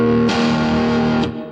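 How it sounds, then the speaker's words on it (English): An electric guitar runs through an overdrive distortion pedal on a Roland Boss GT-8, ringing out a thick, sustained chord that swells and is cut off after about a second, loud and up front. "I've got a kind of an overdrive setting set on this overdrive distortion pedal just there."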